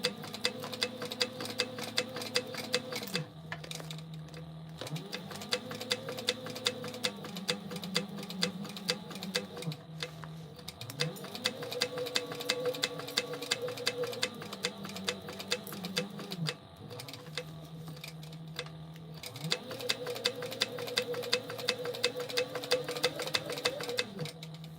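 A sewing machine runs in repeated bursts of steady, rapid stitching, stay stitching an eighth of an inch around the edge of fabric for a hydro pouch, with short pauses between runs and no one speaking.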